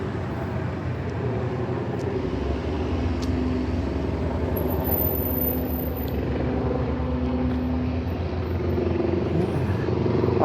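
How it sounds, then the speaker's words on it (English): Emergency hospital helicopter passing over a North End Halifax street, a steady low rotor drone that grows slightly louder toward the end, heard outdoors from a distance with no talking. "I hear the helicopter."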